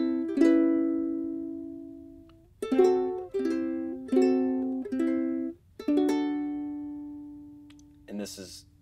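Plucked ukulele chords and notes ringing out in a slow intro to a song, several strums each left to decay, close and clear, ending with a quick muted flourish.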